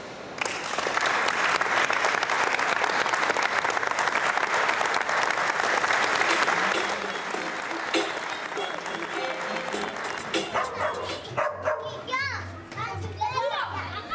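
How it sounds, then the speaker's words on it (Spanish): A group of children applauding and cheering for a visitor, dense clapping and excited shouts for several seconds that fade into scattered children's chatter and voices. "Yo quiero que este grupo me le dé un aplauso a don Reinel Romero."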